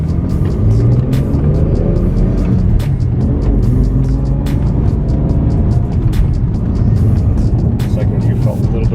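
A BMW E46 M3 accelerates hard on back roads, its engine roaring loud and close with rising revs through gear changes and sharp clicks, while people talk excitedly over it.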